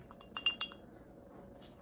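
Ice cubes clink against a glass of Evan Williams Cherry Kentucky Liqueur served on the rocks, a few bright close taps in quick succession, then a faint last chink.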